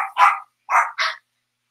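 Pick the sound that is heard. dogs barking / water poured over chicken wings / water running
dogs barking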